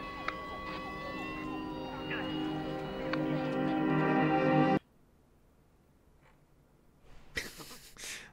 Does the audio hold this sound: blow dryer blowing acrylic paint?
no